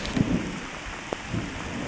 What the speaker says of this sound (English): Still more thunder.